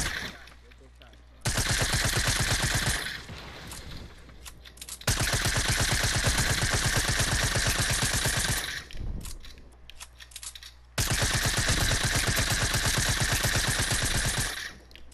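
Rapid automatic gunfire from shooting in the Fortnite battle royale video game, fired in three long sustained loud bursts with short pauses between them, close and dominant.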